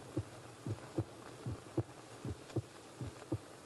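A steady heartbeat sound effect in a radio crime drama set at a gibbet, about eight loud double thumps in an even, pounding rhythm with no voices over it.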